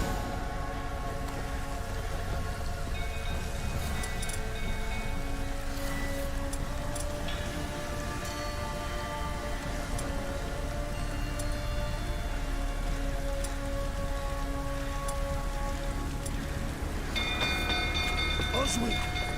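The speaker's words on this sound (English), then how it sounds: "Looks like rain." Steady rain falls across a village scene in The Witcher 3: Wild Hunt, a continuous wash of patter over game ambience, with low rumbling and voices talking over it throughout.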